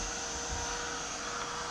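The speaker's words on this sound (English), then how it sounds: "how do you like my new heat gun?" A corded heat gun of the kind used for embossing powder runs steadily, a constant airy whoosh with a fan whine, loud and unbroken, with no talking.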